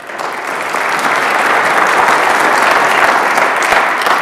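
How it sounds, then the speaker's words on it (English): Steady applause from a lecture audience at a faith-and-science talk on galaxies, dense and sustained clapping filling the whole stretch, starting a touch softer and swelling slightly before holding level. "You can applaud wildly in a moment"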